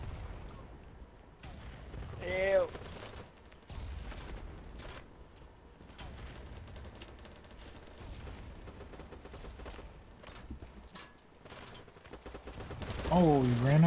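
Gunfire in the shooter game BattleBit Remastered: scattered rapid bursts and single shots crackle throughout at varying distances, with a louder flurry near the end, under game effects.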